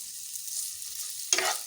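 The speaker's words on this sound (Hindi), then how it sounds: "अब हम इसमें प्याज डाल देंगे" Onions drop into hot oil with cumin seeds and set off a sudden, louder sizzle burst after a soft, steady frying hiss.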